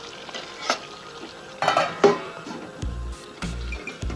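Pabda fish frying in hot oil in a covered pan, with a soft steady sizzle broken by clattering lid and pan knocks and a few louder bursts of spitting oil, no voices.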